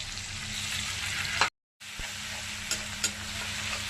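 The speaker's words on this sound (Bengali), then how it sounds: "টমেটোটা একটু কষিয়ে নিয়েছি, এখন আদা আর লঙ্কা বাটাটা দিয়ে দিচ্ছি।" Ginger and green chili paste fry in a pan with tomato, giving a steady soft sizzle. A few light stirring clicks sound, with a brief silent break near the middle. Nobody speaks.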